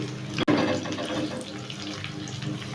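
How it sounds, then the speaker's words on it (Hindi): Cut okra (bhindi) dropped into about half a spoon of lightly heated oil for achari bhindi: a sudden burst of sizzling that settles into a steady, close, crackling hiss. "ऑयल मेरा गर्म हो चुका है हल्का सा। अब मैं इसमें ये भिंडी डाल दूँगी।"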